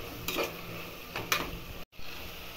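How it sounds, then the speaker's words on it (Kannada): Tomatoes frying in a pot for vegetable pulao: a soft, steady sizzle with two brief scraping stirs and a short moment of silence near the end. "ಟೊಮೊಟೊ ಒಂದು 5 ನಿಮಿಷ ಫ್ರೈ ಆಗಬೇಕು."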